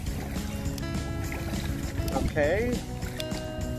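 A kayak is paddled on open water with soft splashes and sloshing close by, while people talk over it.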